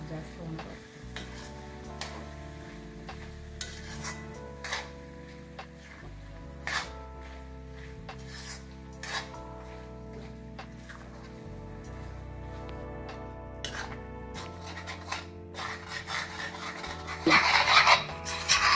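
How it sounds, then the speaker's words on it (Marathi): Raw mango methamba with jaggery and chilli powder being stirred continuously in a pan, a steady scraping and soft sizzling that runs throughout, close and fairly quiet, louder near the end, with no talking. "सतत हलवत राहावे, नाहीतर करपण्याची शक्यता असते"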